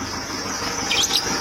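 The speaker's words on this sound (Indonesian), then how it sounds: "itu adalah suara fan belt terkena air tadi" A high, thin fan belt squeal, caused by water on the belt, rises and wavers over the low hum of a freshly started Kia Carnival diesel engine, growing briefly sharper near the end.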